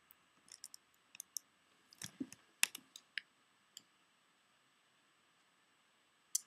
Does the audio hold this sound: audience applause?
no